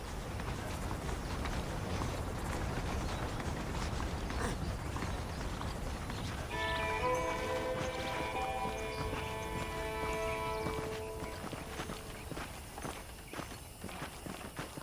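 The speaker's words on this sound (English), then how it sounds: "The horses are saddled up over here." Horse hooves clip-clop at a walking pace in Red Dead Redemption, a steady near rhythm over outdoor ambience, with a musical tone entering partway through and fading toward the end.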